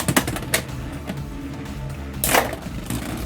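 Beyblade X spinning tops, a Luke Skywalker and Darth Vader pair, clash in a stadium battle with a few sharp clacks and scrapes early and a louder grinding burst near the end.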